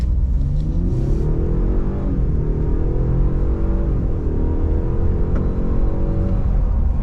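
A Ford F-150 PowerBoost 3.5-liter EcoBoost hybrid pickup accelerates hard from idle to 60 mph, its engine droning steadily with rising, shifting tones and a constant low rumble close by, with no talk.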